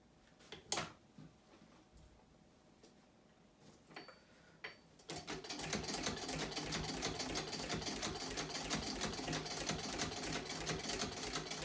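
A vintage sewing machine stitches through a thick stack of twelve felt and leather layers. A few faint knocks come first, then a steady, rapid mechanical chatter runs close and loud to the end.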